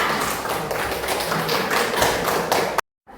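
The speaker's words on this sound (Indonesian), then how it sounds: "Kasih aplaus untuk kelompok 3." Applause from a classroom group of students: dense, continuous clapping for almost three seconds that stops abruptly into silence.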